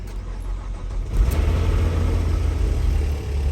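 A 2006 Nissan Altima engine cranks and catches with a programmed key, settling into a steady low idle rumble close by, with no talk over it.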